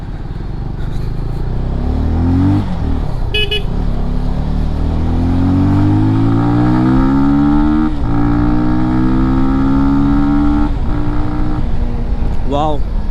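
A Benelli TRK 251 adventure motorcycle with a 251cc engine being ridden, its engine note climbing through several revving accelerations and gear changes, loud and close with wind noise and someone talking over it.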